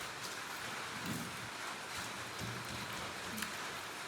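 Rain falls outside in a steady, soft patter with a light wash of wind, faint and distant, with no voices over it.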